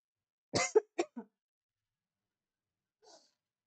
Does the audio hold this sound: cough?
yes